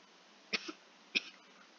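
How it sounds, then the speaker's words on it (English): Two short, sharp coughs about half a second apart, close by, followed by quiet. "Yeah, this cough is really annoying."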